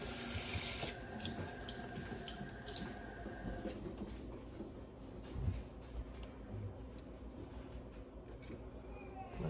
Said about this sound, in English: It also said to use one of these cups to pour water in the bottom of this.